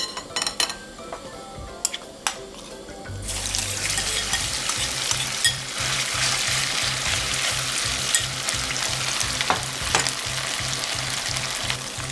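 Garlic pepper pork deep-frying in hot oil: a quieter start, then a loud, steady, close sizzle and bubbling that fills the rest, with a few faint utensil clinks.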